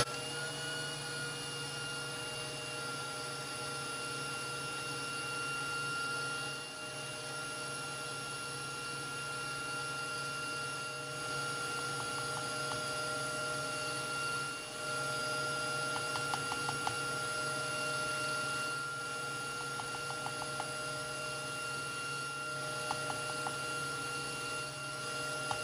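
An electric mixer whips egg whites for an angel food cake in a steady, even motor drone with a constant hum that runs for the whole stretch, with faint clicks here and there and no talking.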